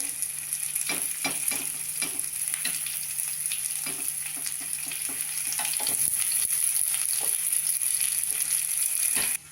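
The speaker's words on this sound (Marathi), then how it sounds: "दुसऱ्या बाजूने पण आपल्याला फ्राय करून घ्यायचं मस्त तेल सोडूया थोडं थोडं" Sweet corn appe fry in oil in an appe pan, a steady close sizzle with scattered sharp crackles and pops, growing slightly louder toward the end.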